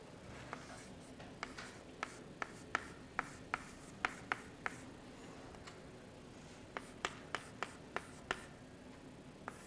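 Chalk or marker writing on a board during a mathematics lecture, a faint run of scattered taps and short scratchy strokes in a quiet room with low background hum and no speech.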